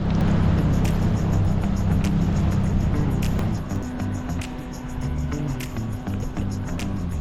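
A small outboard motor on a dinghy runs steadily in a crowded anchorage, a loud, continuous low drone that eases and drops in pitch partway through, with faint clicks and splashes above it.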